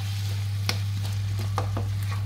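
A wooden spoon or spatula stirs a spicy Chettinadu pumpkin curry with tamarind extract in a pan. A few scraping strokes sound at irregular moments over a steady low electrical hum, with no talking.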